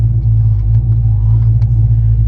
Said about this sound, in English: I can hear the motor, so it works.